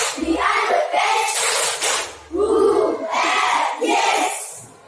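Schoolchildren in an Indonesian classroom chant a rhythmic spirit clap together, loud shouted phrases in bursts with clapping hands, close and energetic.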